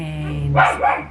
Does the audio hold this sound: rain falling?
no